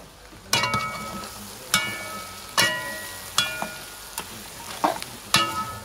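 Chicken and pork with peas stirred in a pot, making sharp metallic clanks of a utensil against the pot at irregular intervals over a soft simmering sizzle, close and clear with no talking.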